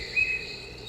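A thin, steady high-pitched bird chirping from a kids' sound machine, continuous and fairly faint against soft background hiss.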